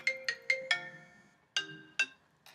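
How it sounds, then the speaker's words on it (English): A mobile phone ringtone plays a short melodic pattern of bright repeating tones, a quick run of notes followed by a pause and a few more, moderately quiet and alone. "excuse me, that was my phone."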